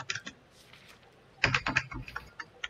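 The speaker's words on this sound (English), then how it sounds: "Oh, I'm like typing something in the chat." Typing on a computer keyboard during a survival game, in quick bursts of key clicks, a short cluster at the start and a denser run after a pause, fairly close and clear with no talk.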